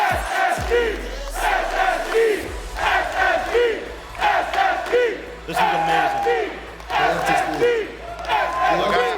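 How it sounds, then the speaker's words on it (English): A large esports crowd roars and chants in loud repeated waves at a Rocket League world championship match, with a commentator speaking briefly over the din. "they are as loud as any crowd we've seen"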